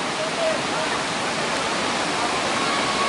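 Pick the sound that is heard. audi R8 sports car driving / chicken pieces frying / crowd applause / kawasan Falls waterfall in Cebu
kawasan Falls waterfall in Cebu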